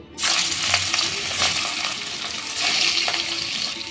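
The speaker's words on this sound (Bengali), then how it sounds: "তেলে লবণ ছিটিয়ে আমি মাছগুলো এবার ভেজে নেব" Pieces of katla fish dropped into hot oil sprinkled with salt, bursting into a loud, close crackling sizzle that swells and spits in waves, with no talking.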